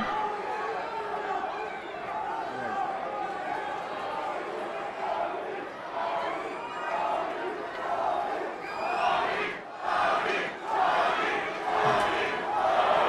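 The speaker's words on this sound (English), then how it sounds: "Crowd chanting for Toney." A fight-night crowd at SFC 11 chants for fighter Toney Charles, a rhythmic swell of many voices rising and falling in waves across the venue, moderately loud and somewhat distant, with speech mixed in.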